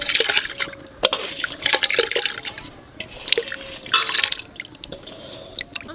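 Split pulses, khesari dal among them, tipped into a pot of hot water make a busy stream of close splashes, drips and wet patters that rise and fall for several seconds.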